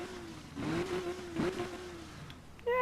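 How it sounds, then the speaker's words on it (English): A sports car engine in the racing game Need for Speed Rivals revs up and down in a couple of rising and falling sweeps, loud and close, with no talk over it. "Ooh, that car, that sounds quite nice, guys."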